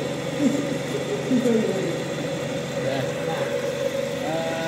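A single-phase AC generator driven by an engine runs steadily at about 1350 RPM, giving a constant mid-pitched drone with a few faint tonal whines and bumps riding on top, while people talk over it.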